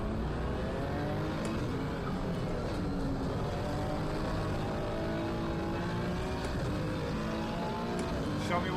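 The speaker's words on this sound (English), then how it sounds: "Show me what that McLaren can do" A McLaren race car engine in Gran Turismo 7 drones continuously, its pitch rising and falling through gear changes, steady and fairly loud throughout.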